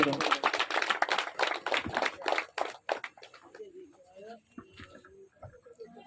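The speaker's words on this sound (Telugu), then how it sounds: "గట్టిగా చప్పట్లు కొడదాం" An audience at an outdoor gospel meeting claps loudly in a dense burst for about three seconds, then the applause thins to scattered claps as voices speak over it.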